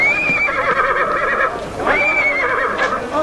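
Stallion neighing loudly up close, two long high whinnies separated by a short pause, with faint hoof sounds underneath.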